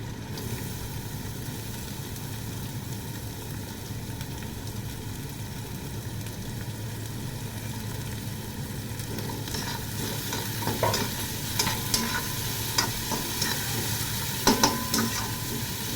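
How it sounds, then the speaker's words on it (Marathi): Onion added to a pan of frying garlic and green chili for a quick cabbage stir-fry, giving a steady low sizzle with a few scraping stir sounds toward the end; no talking. "ही फ्राय झाली की त्याच्यामध्ये आता आपण टाकूया कांदा"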